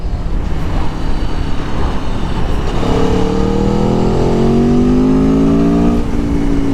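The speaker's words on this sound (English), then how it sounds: "That valve opens up, and then that's when the true sound of that exhaust comes through." A 2021 Aprilia Tuono 1100 Factory motorcycle revs up, its exhaust note rising steadily in pitch with a deep, rumbling roar close by as the exhaust valve opens near 5,000 RPM.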